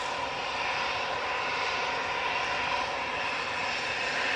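An EasyJet jet airliner roars steadily and continuously nearby, a broad, even engine rumble with no break across the whole stretch.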